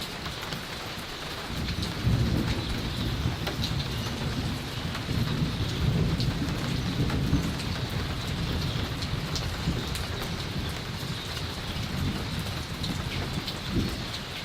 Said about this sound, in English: you can probably hear that thunder. And we're starting to get some more rain.